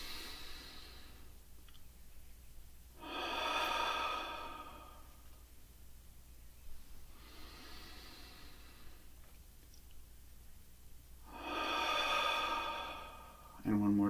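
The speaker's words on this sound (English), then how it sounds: "I invite you to take a holy breath with me, breathing deeply in, holding it for a short time, and then releasing through the mouth." Slow deep breaths drawn in through the nose during a guided breathing moment in a worship service, with two long, soft inhales spaced well apart and quiet pauses between them; no one talks.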